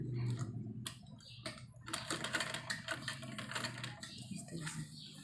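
A sewing machine stitching the hem of a salwar leg, a rapid close mechanical chatter of the needle that starts after a short pause and runs fairly steadily, quiet but clear.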